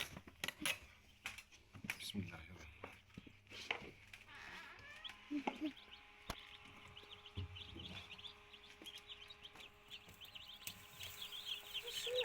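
Faint, high chicks peep continuously in quick, overlapping chirps, with scattered knocks and handling noises in the background as newly hatched chicks are taken from an incubator.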